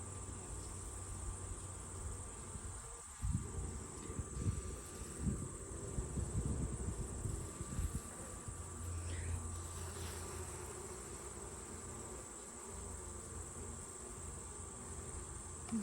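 Honeybees at an open hive during an inspection give a soft, steady hum, with a few brief rustling bumps near the start and no talking.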